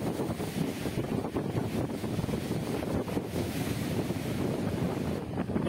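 Rough sea at Mandarmani during a high tide with stormy wind and rain: continuous roaring surf and gusty wind buffeting the microphone, loud and unbroken throughout with no voices.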